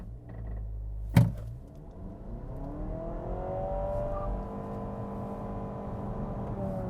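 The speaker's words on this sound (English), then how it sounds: "A little bit of tire squeal there." A 2025 Honda Civic Hybrid with a 2-liter four-cylinder accelerating hard from a standstill, a sharp thump and brief squeal at the start, then a steady rising engine and motor whine building smoothly, alone and moderately close.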